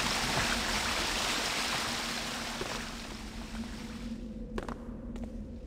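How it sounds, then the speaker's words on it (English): Water rushes steadily in a flooded city area of the stealth video game Thief, a loud continuous broadband wash that fades slightly, with a few faint clicks near the end. "Water is absurdly loud."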